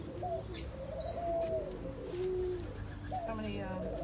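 Several doves coo in low, drawn-out phrases on a farm also housing quail and silkie chickens, with a brief chirp, faint background voices and a closer coo near the end.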